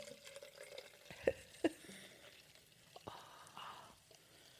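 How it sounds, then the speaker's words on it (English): Bubbles gurgle and pop in a liquid: faint, sparse little pops and drips with a couple of sharper bursts, quiet and close, with no talking. "everyone listen to the bubbles"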